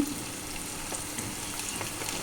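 Soya chunk pakodi frying in hot oil gives off a steady, dense sizzle that stays close and even throughout, with no voices.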